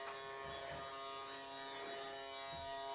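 A Miele toy electric vacuum cleaner runs with a steady, thin motor buzz and whine, constant and close throughout, with faint rhythmic bumps beneath.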